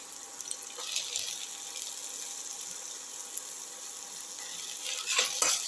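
Ginger and garlic sautéing in a pan, a broad steady hiss of frying that holds evenly throughout and swells slightly near the end, close by with no voices.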